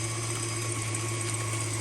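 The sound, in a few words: KitchenAid stand mixer whipping egg whites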